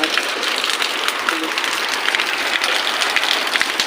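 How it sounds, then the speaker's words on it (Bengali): Heavy rain pours under a darkening sky near a railway line, a dense, even hiss of drops drumming on surfaces that holds steady and close throughout, with no other sounds rising above it. "পুরো অন্ধকার হয়ে ধমধম করে বৃষ্টি হচ্ছে আবার"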